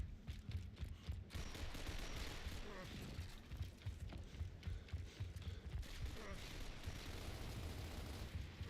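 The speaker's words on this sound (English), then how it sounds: "I fire some shots after spawning" Gunfire in Gears of War Reloaded, steady rattling shots and mechanical clatter filling the whole stretch, fairly quiet in the mix with talk over it.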